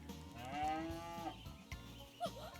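Cow mooing from the video game Umamusume, two or three drawn-out, wavering moos with a rising call near the end, loud and clear over a steady rhythmic game music bed, with no talking.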